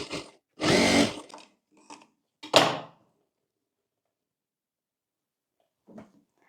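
Short bursts of a sewing machine stitching the lining of a tucked belt blouse, two firm runs near the start with a few brief stutters, then quiet and one faint final tap.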